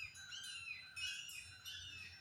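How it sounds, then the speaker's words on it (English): Several birds chirp and trill outdoors in the morning, faint and somewhat distant, with overlapping high calls in a continuous chorus. "You hear all the birds out here this morning?"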